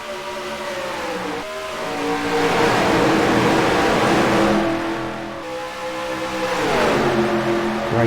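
Several race cars in the NR2003 racing game surge forward together at the start, engines roaring loud and continuous with rising and falling revs as the pack accelerates.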